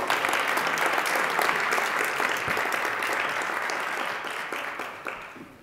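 A school committee audience applauds an award recipient at a ceremony, with steady, dense clapping filling the room and holding loud before slowly thinning toward the end.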